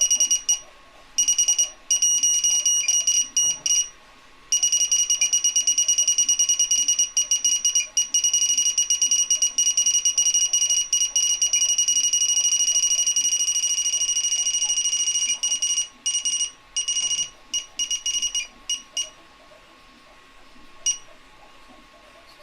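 A device beeps like an alarm, with loud, high-pitched tones sounding continuously for about eighteen seconds, broken by short gaps, then stopping near the end.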